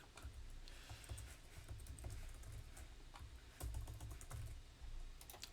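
Quiet, steady typing on a computer keyboard during a coding session, a rapid run of soft clicking keystrokes with brief pauses, close and alone without speech.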